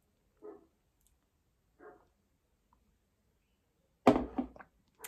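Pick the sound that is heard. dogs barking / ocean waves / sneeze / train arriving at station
dogs barking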